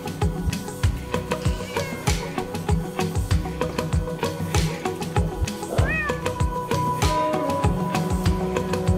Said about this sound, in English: if you like cats, they're everywhere and they're so cute.